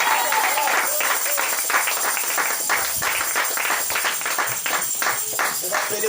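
Congregation at a church deacon consecration clapping together, a lively stream of close, crisp handclaps that keeps up steadily for several seconds.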